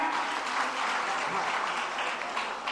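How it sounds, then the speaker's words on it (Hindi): A loud, dense round of clapping from the audience at a Jain religious discourse and auction in Agra, sustained steadily at one level throughout. "जोरदार तालियां।"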